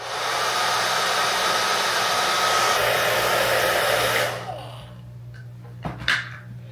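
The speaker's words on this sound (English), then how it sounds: "as I pull out the hair dryer" A hair dryer, used to dry nail art, blows with a loud, steady whooshing hiss for about four seconds, then switches off, leaving a quiet room with a couple of soft knocks.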